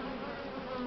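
Honey bees buzz in a dense, steady drone at close range while hive frames with brood are handled, with no talk.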